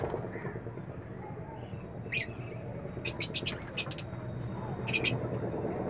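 Birds with newly hatched chicks in a rooftop breeding cage give a few brief, high chirps and peeps over a steady low background hum, fairly faint and intermittent.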